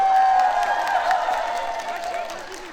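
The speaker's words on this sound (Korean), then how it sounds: "박수 한번 박수 주세요." A crowd at an outdoor town festival claps and cheers for a singer, a dense wash of applause that gradually tapers off, with an announcer's voice faintly audible.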